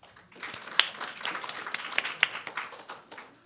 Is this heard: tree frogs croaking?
no